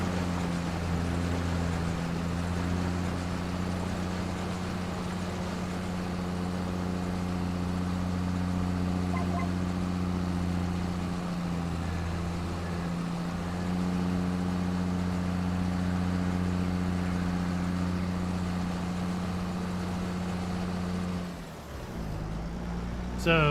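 Tractor engine from Farming Simulator 22 runs steadily at a low, droning idle-to-working pitch throughout, loud and continuous, with a brief dip and change in tone near the end.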